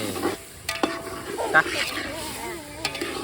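A vegetable curry is stirred in a pan over the fire. Soft sizzling comes with intermittent scraping stirs, and a voice talks over it.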